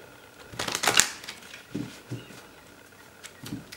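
Angel healing oracle cards being shuffled, a quick burst of papery riffling followed by a few soft, separate card taps, close and fairly quiet with no talking.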